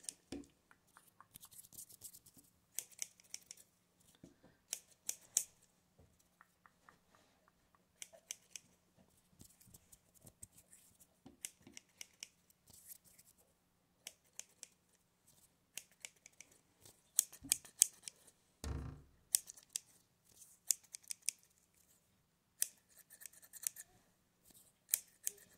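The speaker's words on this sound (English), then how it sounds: "So I'm just gonna get to trimming." Scissors snip through hair during a haircut roleplay, with crisp, close, rapid cuts coming in irregular clusters and brief pauses, and no voice over them.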